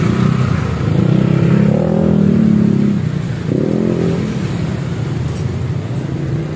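Suzuki GSX-S motorcycle with a bored-out stock exhaust revs up close and loud, giving two rising throttle swells that drop back to a rough idle.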